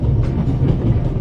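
Orient Express train in The Raven video game, rolling with a steady low rumble and faint rhythmic clatter, continuous and moderately loud, with no voices.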